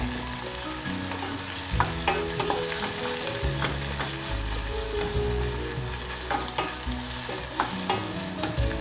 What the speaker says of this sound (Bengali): পেঁয়াজটা দিয়ে দেব ভালো মতো ভাজতে হবে পেঁয়াজটাকে